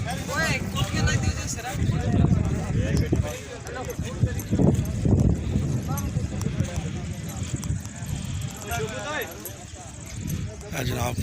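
Horses' hooves clip-clop at a tent pegging (neza bazi) event in Thoha Khalsa, Pothwar, blended into a steady outdoor crowd din with people talking throughout.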